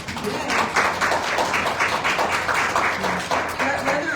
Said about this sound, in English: clap for sure.